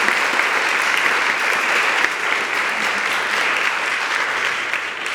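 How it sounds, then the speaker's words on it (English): A museum lecture audience applauds in a steady, dense wash of clapping that holds evenly from start to finish, with no voices rising above it. "would you please join me in a round of applause to thank them for making these lectures possible?"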